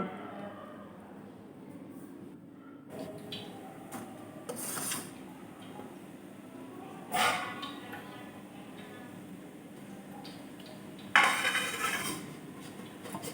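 Quiet, sparse clinks and soft scrapes as soybean snack pieces are set down one by one on a metal plate, spaced several seconds apart.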